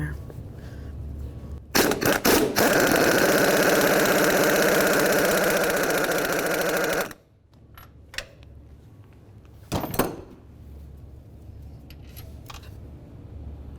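A 17 mm socket on a power tool spins out an engine mount bolt on a 1999-2003 Toyota Solara, front driver's side: about five seconds of loud, steady whirring rattle, then near-quiet with a few sharp clicks and knocks.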